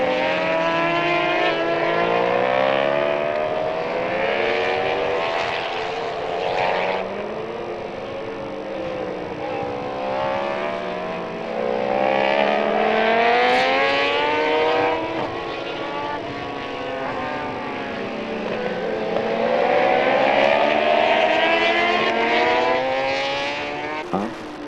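Racing motorcycle engines, including Kawasaki and Yamaha bikes, whine and shift pitch continuously as they pass by on a race track in Spain, loud and sustained with rising and falling revs.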